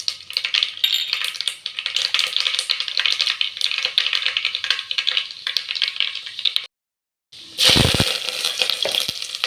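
Mustard seeds splutter in hot oil in a pan for a village-style rock fish curry: a dense, continuous crackling and popping, then a brief silence, then a louder burst of sizzling.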